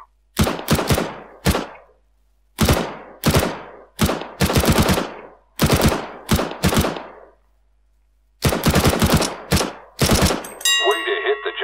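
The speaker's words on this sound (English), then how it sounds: "Pick up that weapon and unload the clip into the target. Observe your bullet spread and weapon kick during firing." Repeated bursts of gunfire as a weapon clip is emptied into a giant wood target in Counter-Strike: Global Offensive, loud rapid volleys in about eight separate strings with short pauses, ending in a ringing electronic tone.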